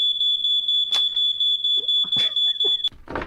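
A household smoke alarm emits a loud, steady high-pitched tone that chirps in rapid repeating pulses, nearly continuous for about three seconds, with brief bursts of speech-like noise cutting in before it stops.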